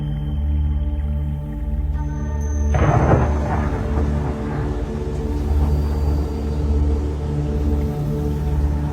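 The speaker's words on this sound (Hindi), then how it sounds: "समुद्र में भयंकर तूफान उठा है और वो हमारे जहाज की ओर ही आ रहा है।" A violent storm at sea bearing down on a ship, heard as a deep, continuous rumble with a sudden heavier thunderous swell that keeps roaring loudly to the end.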